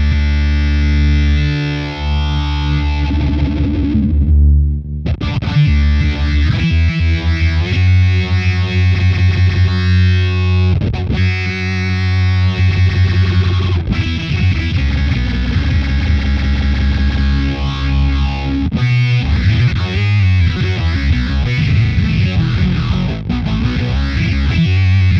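Way Huge Atreides Analog Weirding Module pedal with its phaser engaged, giving a dense, loud, distorted synth-like tone that sweeps and swirls continuously for the whole stretch, with brief dropouts between phrases and no talking.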